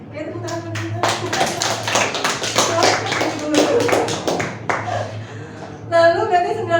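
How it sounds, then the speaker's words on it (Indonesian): A small group of children clap for a classmate in a classroom role-play, a burst of quick uneven claps lasting several seconds over a steady hum, with a voice speaking before and after. "tepuk tangan untuk Dima"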